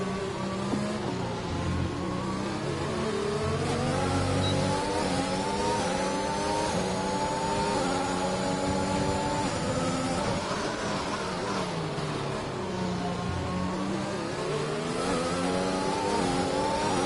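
Racing cars with Mercedes engines in a video game accelerating through the Belgium circuit, a continuous loud engine drone with rising and falling pitch as two cars battle closely, no voices.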